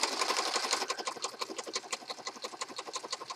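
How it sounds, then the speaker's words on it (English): Sewing machine stitching around the edge of a paper bag journal, a steady rapid run of close, even needle strokes with a slight whirring motor, heard alone. "Alright, sewing around."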